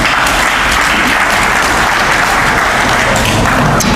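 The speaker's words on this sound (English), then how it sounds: "I think you all need to clap for us on this." Applause fills a hall at a college quiz event in Brikama, Gambia: loud, dense, continuous clapping from a large crowd, steady throughout without pause.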